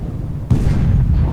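A tank gun fires in War Thunder, in a tank battle with a Panzer III J1 facing a T-34: a single heavy boom lands abruptly midway and is followed by a low, lingering rumble.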